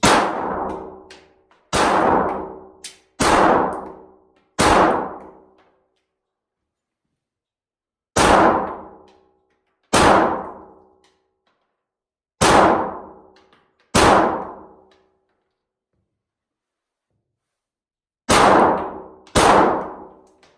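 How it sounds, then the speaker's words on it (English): Glock 48 pistol shots fired at targets, loud sharp cracks with ringing decay, heard in clusters of two to four with pauses between groups, about ten shots in all. "This is the very first shots of the day."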